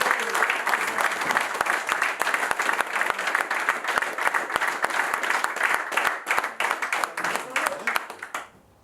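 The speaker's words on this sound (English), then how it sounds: "Big round of applause, please." Crowd applause for the winner of a commercial feeder angling championship, loud sustained clapping and cheering that fills the space for several seconds before cutting off, with speech over it.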